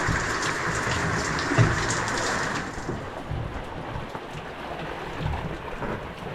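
Rain falls steadily, a dense hiss of drops on surfaces that is heavier at first and then eases to a softer patter, with a faint bird call in the background.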